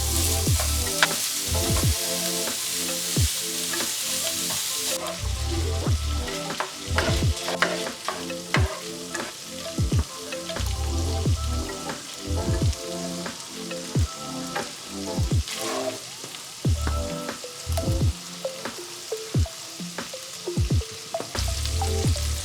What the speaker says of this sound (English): I'm going to cook the longanisa